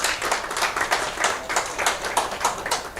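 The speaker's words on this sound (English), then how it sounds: "Please clap for Gome." An audience claps for a counselor named Gome at a gathering, a lively run of quick, close hand claps in an uneven rhythm lasting a few seconds.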